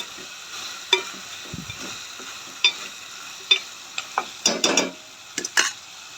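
Goat trotter curry being stirred in a pan with a spoon, giving a series of scraping and clinking strokes over a steady low sizzle, with quicker bursts of stirring toward the end.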